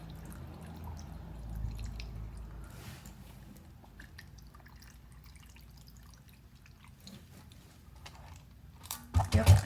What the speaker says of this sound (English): I'm going to fill up the water till it's just below the top level of the rocks